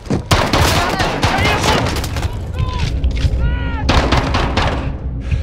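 Rapid gunfire and booming blasts from the tactical shooter game Bravo Six Going Dark, loud and dense throughout, with squad voices calling out over the shooting.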